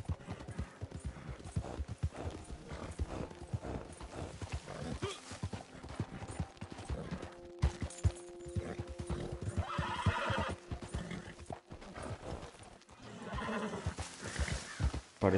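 Horse hooves clip-clop in a steady rhythm with repeated whinnies in the video game Red Dead, the galloping beats close and prominent throughout, with occasional faint game noise.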